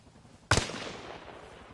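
A single sharp gunshot in the PS5 military shooter Arma Reforger, a loud close crack followed by a fading reverberant tail, with no talking.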